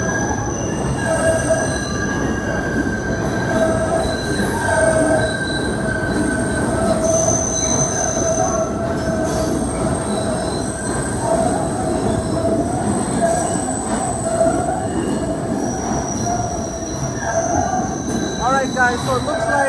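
PATH train passing through a station, its wheels squealing loudly and steadily against the rails with a continuous rumble of rolling cars, resuming service after a water main break and broken rail.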